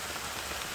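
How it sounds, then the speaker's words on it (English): Summer rain falls steadily at Lake Ouachita's Big Fir campsite, a dense, even hiss of drops on surfaces, close and constant with no voices. "Summer rain coming down on Lake Ouachita at Big Fir."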